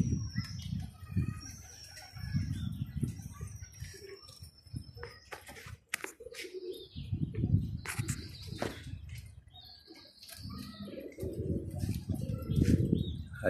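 Pigeons cooing in low, soft repeated phrases outdoors, with a few sharp wing-flap bursts as birds take off, and faint chirps from other birds in the background.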